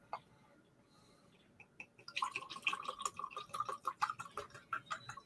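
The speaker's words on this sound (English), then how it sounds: "It always sounds good pouring too." A clear drink imported from Denmark is poured into a horn cup. Quiet handling comes first, then a run of rhythmic glugging splashes as the liquid flows, close and moderately loud.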